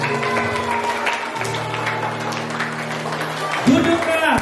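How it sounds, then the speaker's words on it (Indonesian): Children clapping at a storytelling event, busy crowd clapping mixed with voices and a sustained tonal sound, ending in a louder burst of shouting and noise. "Tepuk tangan buat semuanya."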